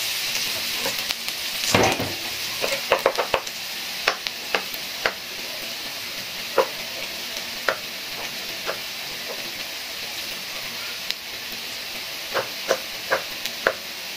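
Garlic sautéing in a pan for bopis gives a steady, soft sizzle, broken by scattered clicks and scrapes of a utensil stirring it, with one louder clatter early on and no talk.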